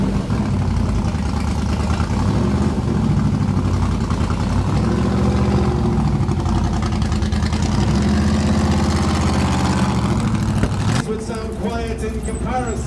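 A McLaren M1 race car runs at a concours parade at Villa d'Este, giving a loud, throbbing engine rumble that shifts in pitch. The note changes abruptly near the end, and a voice talks over it.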